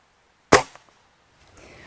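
A single sharp, close air rifle shot crack, loud and abrupt with a quick decay, followed by quiet and faint outdoor background noise.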